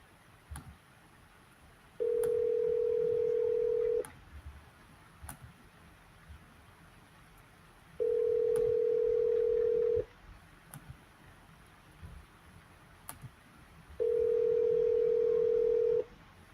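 An outgoing telephone call ringing out, three long even ring tones about two seconds each, spaced several seconds apart with faint clicks between them and no talking.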